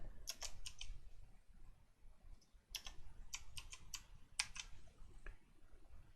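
Bursts of keystrokes on a computer keyboard, quick clustered clicks in short runs separated by pauses, close and fairly quiet over a low background hum.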